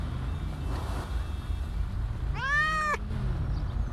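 A pet cat gives one clear, rising-then-falling meow near the end, close and loud over a steady background hum, with no voices over it.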